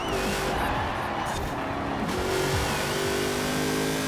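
An Alfa Romeo 155 Q4 race car in Forza Horizon 4 accelerates hard with a revving engine, its pitch climbing through gear changes and tires scrubbing as it corners, loud and continuous.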